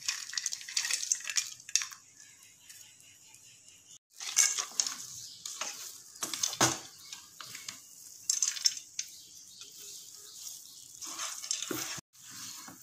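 Roasted cashews and raisins are stirred into rava kesari in a pan, giving a soft scraping and gentle sizzle with irregular spoon scrapes and clinks against the pan, close and fairly quiet, no talking.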